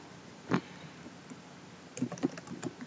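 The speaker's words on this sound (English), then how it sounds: "And type the commands" Commands typed on a computer keyboard, a single quiet keystroke followed after a pause by a short burst of several soft clicks, close and faint.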